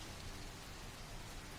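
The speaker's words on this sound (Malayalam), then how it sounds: "എന്ത് നല്ല മഴയല്ലേ" Steady, fairly faint rain falls without a break, a soft even hiss of drops on surfaces, with no voices or other sounds.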